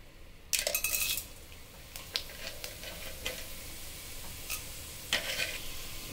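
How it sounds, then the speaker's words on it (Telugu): Tempering seeds and a broken dried red chilli hit two spoons of hot oil in a pan, giving a sudden loud crackling sizzle that settles into a quieter fry, with metallic spoon clinks and scrapes along the way. "1 స్పూన్ తాలింపు గింజలు వేసుకోండి"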